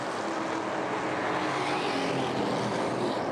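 Race cars roar off at the start of a 25-lap race during the Winchester 400 weekend, a loud, dense, continuous engine drone filling the air without any voices.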